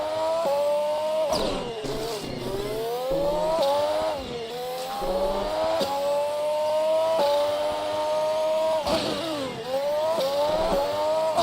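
DTM race car engines in an esports racing game at Zandvoort scream and rise in pitch, dropping sharply at each gear change, with several loud revving runs one after another.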